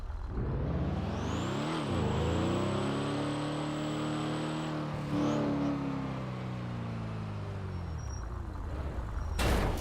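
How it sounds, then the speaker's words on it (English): A car in the GTA video game drives past with a smooth engine whir that rises and falls, a faint high whine riding on top and a sharp burst near the end. "That's a car."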